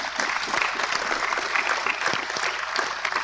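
A room of attendees at a high-level international climate and development discussion claps steadily, a full, even burst of applause with no talking over it.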